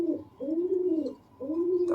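Egyptian domestic pigeons coo close by in soft, throaty rolling calls, two long rising-and-falling coos separated by a brief pause, with no other sounds around them.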